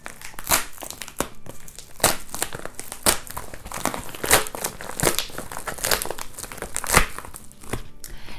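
A golden envelope is opened with crisp, close paper crinkling and tearing, irregular rustles and crackles repeating for several seconds.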